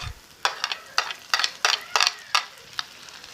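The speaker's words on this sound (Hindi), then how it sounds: "पहले हम थोड़ा प्याज को पहले पकाएंगे। अब इसमें टमाटर शामिल कर लेते हैं" Onions and tomatoes sizzle quietly in a pan while a utensil stirs and scrapes in a steady rhythm of short bursts, close by.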